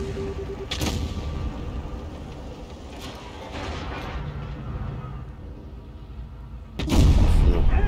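A tank cannon firing in World of Tanks Blitz while driving a WZ-114, with a booming shot near the start and a louder, sustained blast near the end over continuous engine rumble.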